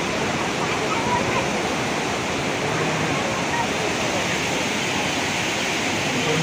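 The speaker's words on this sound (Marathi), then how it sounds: "ते ही मित्रांनो आहे पाठीमागे भावनदी नदी" The Bav river in Konkan, swollen after heavy monsoon rain, rushes past in a loud, constant roar of churning water that stays even and close throughout.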